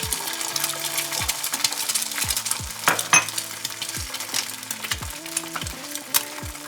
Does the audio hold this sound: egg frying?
yes